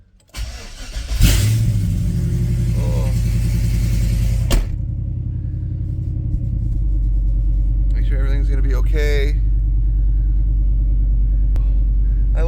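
A car engine cranks and catches, then settles into a steady, loud, low rumbling idle inside an enclosed garage, with a fuel pump and injectors audible; a person speaks briefly over it.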